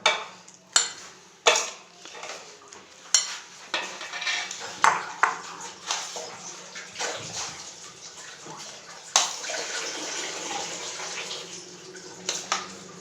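Cream chaat is spooned into a bowl with repeated sharp clinks and scrapes of a utensil against the dish, spaced irregularly over a soft wet shuffling background.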